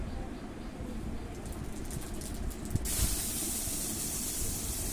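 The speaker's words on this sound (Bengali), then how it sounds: "কড়াইতে আমি তেজপাতা এবং গোটা জিরে ফোড়ন দিয়ে দিলাম" Hot oil hisses and crackles as whole spices hit it, the sizzle jumping louder partway through and then holding steady.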